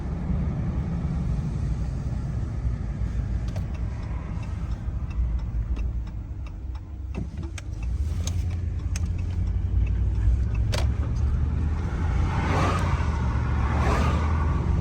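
A RAM 1500 pickup with a 5- or 6-speed automatic transmission being driven, giving a steady engine and road rumble heard from inside, with a few faint clicks and ticks over the continuous drone.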